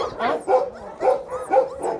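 A tiny puppy, smaller than a cooking pot and one of a litter found in cardboard boxes, gives four high, thin yipping barks in a steady rhythm, close and fairly loud.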